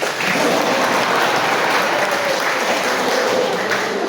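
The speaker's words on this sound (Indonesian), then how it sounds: "Tepuk tangan untuk saya" Sustained applause from a church congregation at a parish priest handover ceremony, steady clapping filling the whole stretch without a break.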